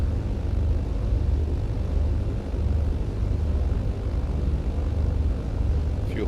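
Steady droning propeller engine of a Britten Norman Islander in Microsoft Flight Simulator, a constant low rumble holding level throughout with no voices over it.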